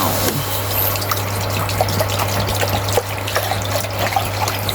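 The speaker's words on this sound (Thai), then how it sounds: "เราใส่น้ำเปล่าลงไปเลยค่ะ" Water pours steadily in a continuous splashing stream into a hot pan, close by, under a low constant hum.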